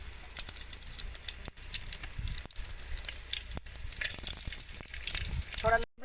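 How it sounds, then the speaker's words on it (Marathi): Garlic frying in a little oil as a liver and caul fat dish is started, a steady crackling sizzle with occasional stirring scrapes and drips, close and continuous, with no voices. "मी तेल थोडं टाकते मला चरबीचं तेल काढायचं आहे उगं थोडं लसूण गरम होण्यापुरते मी टाकणार आहे"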